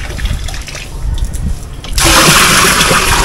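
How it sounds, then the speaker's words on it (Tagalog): Water pours into a drum at home in Albay, Bicol, starting as a loud, steady gush partway through after a quieter stretch of faint trickling and background noise. "Ayun, punuin lang namin tong drum."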